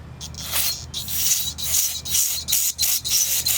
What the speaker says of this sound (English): Carburetor cleaner, just to clean it up.